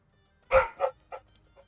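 A dog barks indoors in a quick burst of three or four sharp yips, the first loudest and the rest fading, close by with no talk over them.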